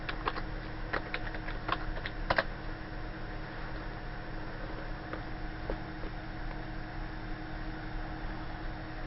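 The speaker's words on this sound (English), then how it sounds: "you are typing in your password" Someone types a password on a computer keyboard while installing Java on Linux, giving soft, irregular key clicks with a brief cluster early on, then sparse taps over a faint steady hiss.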